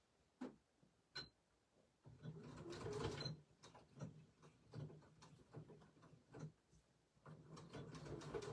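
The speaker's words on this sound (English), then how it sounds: "So I'm going to sew from here" Sewing machine stitching a fabric catnip toy, its needle running in steady rhythmic bursts with brief stops between runs, close and moderately quiet.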